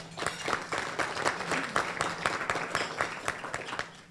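Audience applause at a Tiger Bay club forum on free higher education, a dense, lively clatter of many hands with distinct individual claps standing out rhythmically, fairly close and loud throughout with no talk.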